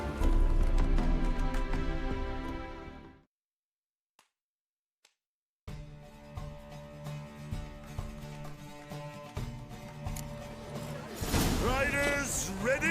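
Hooves of a gray mare gallop in The Witcher 3, a rapid clip-clop mixed with game music and effects, broken by a brief near-silence before the hoofbeats and clatter resume.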